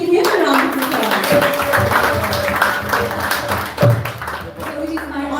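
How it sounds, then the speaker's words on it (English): An audience at a kirtan gathering applauds to welcome a guest speaker, with loud, dense clapping mixed with voices and a sustained tone running underneath throughout. "So let's give him a round of applause."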